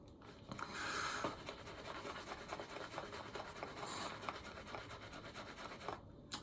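A shaving brush swirls lather across facial stubble in a faint, close, continuous soft rubbing and bristly scratching, with a slight swell near the start.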